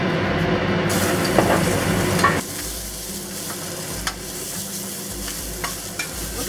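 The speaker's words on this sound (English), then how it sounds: "We're going to saute the garlic and the jalapeno peppers" Garlic and jalapeno peppers sizzle in a pan of hot oil over medium heat, a steady frying hiss with a few scraping stirs, a louder burst at first settling into a softer sizzle.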